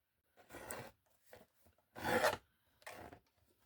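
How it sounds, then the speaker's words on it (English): A new deckled edge trimmer cuts around a piece of paper, giving three separate rasping strokes of rising and falling loudness with short pauses between them, close and clear with no talk. "I'm going to cut around it with my new trimmer"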